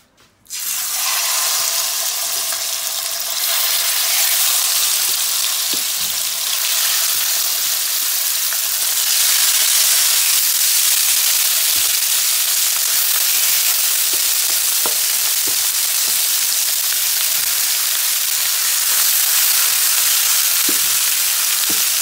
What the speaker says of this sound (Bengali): অল্প তেল দিয়ে আর কি প্যান ভেজে নিব